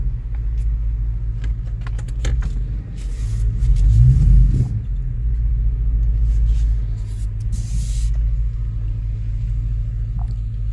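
A 2005 Chevrolet Tahoe 4x4 with the 5.3L V8 idling smoothly, a steady low rumble close by with a brief rise around the middle and some light metallic jingling, no talking.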